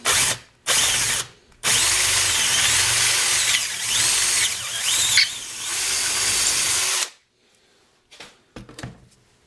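Power drill enlarging a bolt hole in a Meade ETX125 telescope mount, starting with two brief spurts and then a steady, loud, high whine grinding for several seconds before stopping, followed by faint handling clicks.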